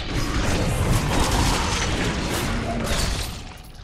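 A dense run of bomb explosions in the action role-playing game Diablo 3, loud heavy booms and crashing debris piling into one continuous roar that eases off near the end.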